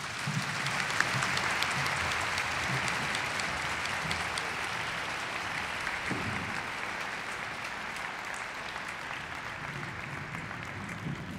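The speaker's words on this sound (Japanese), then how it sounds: "皆様大きな拍手をお送りください。" Sustained applause from a concert audience after a high school wadaiko taiko ensemble's performance at a traditional arts festival, a steady dense wash of clapping throughout, moderately distant and even in level.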